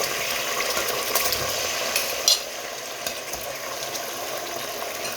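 Chicken is dropped into a hot pot of oil for chicken pulao and sizzles steadily, a bright continuous frying hiss. A sharp metallic clink or scrape stands out partway through.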